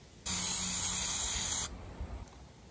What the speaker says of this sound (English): once I'm done spraying them, I'm going to carefully lift them up and plop them like this to dry.